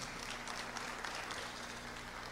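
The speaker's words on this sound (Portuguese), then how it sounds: "Uma salva de palmas, queridos." A church congregation applauding during a service, a faint, even patter of many hands clapping heard from a distance for a couple of seconds.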